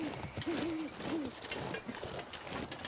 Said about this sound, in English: It is cool to hear owls and ambient noise.